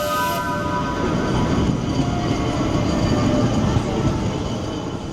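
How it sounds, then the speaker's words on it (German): A small free ride-on train runs through a shopping mall in Kuala Lumpur, giving a steady, close rolling rumble with faint wheel rattle against the hall's background hum. "Also wir sind jetzt gerade in einem Shopping Center, wo auch hier ein Zug fährt."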